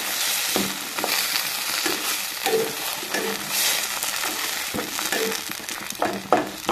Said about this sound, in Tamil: அதையும் இதில் போட்டு வதக்கணும்.